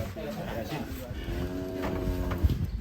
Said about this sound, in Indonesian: Ini baru tahu ini ada sapi Madurasin namanya.